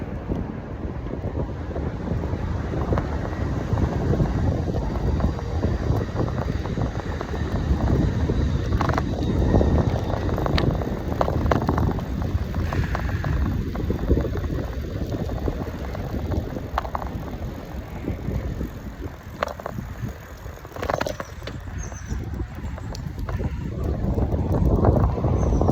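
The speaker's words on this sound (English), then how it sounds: "That wind is really coming in hard now." Strong wind buffets the microphone while cycling along the bay trail, a steady loud roar and rumble that keeps going throughout, with gusts but no pauses and no voices.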